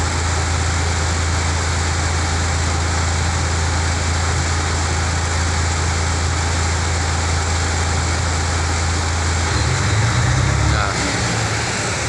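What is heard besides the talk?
DAF CF 85 truck engine revving up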